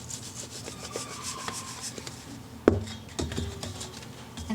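Dry carrot cake ingredients, baking soda among them, are shaken and tapped in a container to mix, giving a soft, steady rubbing rasp with one sharp knock partway through and lighter taps after.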